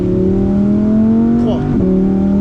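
A Ferrari engine drones loudly and steadily during a driving-coaching run on a track, its pitch dipping briefly partway through. Voices are faintly present beneath the engine noise.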